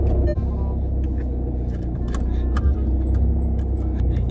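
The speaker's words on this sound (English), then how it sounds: "Turn on the car, turn on the car." Car engine starting and settling into a low idle rumble, close and loud, with small rattles and clicks over it.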